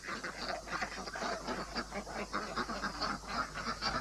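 A group of ducks quacking continuously, fairly faint and somewhat distant, with overlapping calls in an irregular rhythm over a steady background.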